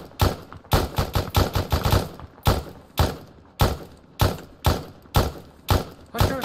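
Video game gunfire in a firefight, loud close bursts of rapid automatic shots in irregular clusters with brief pauses between, sharp and punchy throughout.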